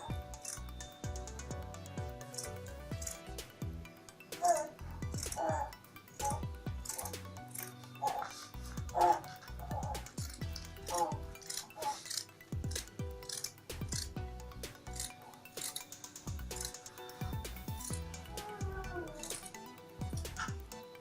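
Scissors snip through fabric while a gown pattern is cut out, giving quiet, close, irregular cuts and rustles spread across the stretch.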